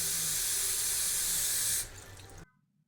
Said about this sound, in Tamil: திரும்பியும் நம்ம இதை ஒரு 2-3 தடவை நல்லா வாஷ் பண்ணி எடுத்துக்கலாம்